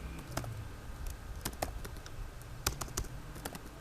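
Typing on a computer keyboard in MS Word 2016, a steady run of close, crisp key clicks at an uneven pace with occasional louder taps, no voice over it.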